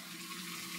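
Cold water runs steadily from a tap as a close, even hiss, briefly swelling louder at the very end.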